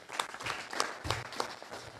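An audience applauds at a School of Journalism and Digital Media gathering, with dense, even clapping from many hands that holds at moderate loudness for a couple of seconds.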